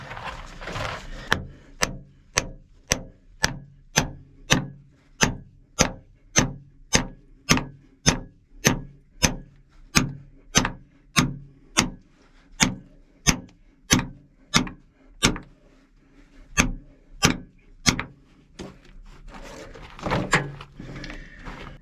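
A bigger hammer pounding feathers and wedges into rock to split it, a steady series of sharp, ringing metallic blows, close and loud, slowing with a few gaps near the end.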